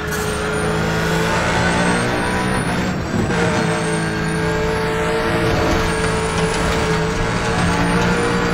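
A game car in Need for Speed The Run runs at full throttle, a loud sustained engine roar with whining tones that shift in pitch as it revs and shifts, with a brief dip midway.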